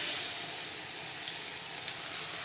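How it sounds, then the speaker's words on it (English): Ginger garlic paste sizzling in hot ghee in a kadhai, a steady close hiss and crackle that holds evenly without a break. "So once the ghee is a little hot, I'm going to put my ginger garlic paste."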